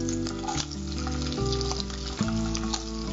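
Garlic and small shallots frying in hot oil after mustard seeds have spluttered, a steady close sizzle and crackle throughout with faint stirring, no talking.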